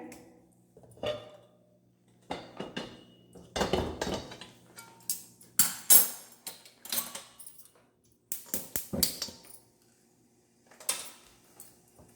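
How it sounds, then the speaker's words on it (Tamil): A large metal kadai is set on a home kitchen stove, giving sharp, scattered clanks and knocks of metal on metal separated by short pauses of near silence. "பெரிய கடாய் வச்சுக்கிறேன்."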